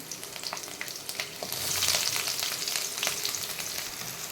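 Whole spices such as fennel seeds, cloves, cinnamon stick and bay leaf frying in hot oil in a pan, a steady close sizzle and crackle with some stirring, no talk.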